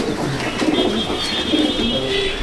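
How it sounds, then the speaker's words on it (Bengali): Pigeons coo in a pigeon loft, soft low burbling calls repeating close by over faint background noise, no talk. "এটা একদম কাটোওয়ালা ধরেরই পায়রা"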